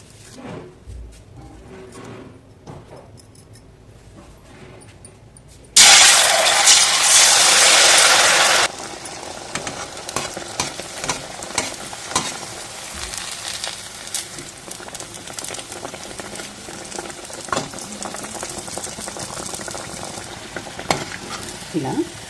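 Sajja appalu, millet flatbreads, fry in oil with a quiet start, then a sudden loud sizzle for a few seconds that settles into a steady bubbling crackle with scattered clinks.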